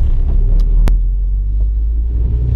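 A car driving through town while looking for a parking spot gives a loud, steady low engine and road rumble from inside the cabin, with a single brief sharp click partway through.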